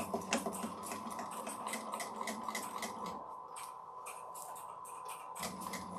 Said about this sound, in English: I'm going to chain stitch them, so it shouldn't take too terribly long